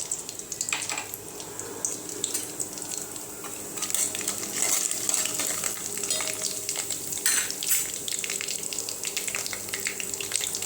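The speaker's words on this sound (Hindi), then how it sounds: "खड़े मसाले ऐड करेंगे।" Whole spices frying in hot oil for a vegetable handi, a dense, loud, steady sizzle with bursts of crackling and stirring scrapes throughout.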